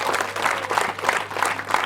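A church congregation claps during a sermon, a dense, steady wash of applause that holds for just under two seconds without any clear voice on top.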